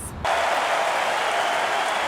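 A large crowd at a presidential rally in Cincinnati cheers and applauds in a broad, steady roar that swells after a brief quieter start and holds continuously.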